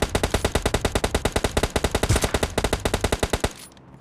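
Rapid automatic gunfire in a battle royale video game, a steady stream of about thirty sharp shots over three seconds that cuts off abruptly, loud and with no speech.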